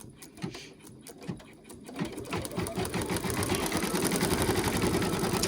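An embroidery machine stitches a free in-the-hoop design, its needle tapping in a quick rhythm that builds from uneven bursts into a steady, close, mechanical chatter with a low motor hum underneath.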